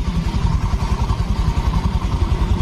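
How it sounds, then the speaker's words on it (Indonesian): A Honda Vario fi scooter engine idles steadily after repair, a continuous low, even putter with slight rhythmic pulsing, close and fairly loud, no voices. "Nah, ini motor sudah menyala."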